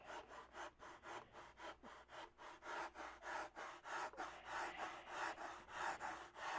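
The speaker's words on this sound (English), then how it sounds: "So I think I'll grind on it a little bit with the sandpaper." Steady back-and-forth rasping of 36-grit sandpaper on wood, about three strokes a second, close and fairly loud with no talking.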